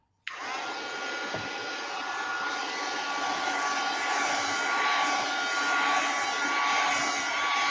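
A hair dryer blows steadily to dry paper and fabric flowers, switching on abruptly and then holding a loud, even whoosh with a faint whine.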